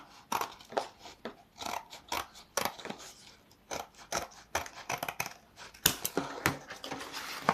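Scissors snip through paper being trimmed to size for a journal page, giving a close, steady run of crisp cuts and rustles, with no voices.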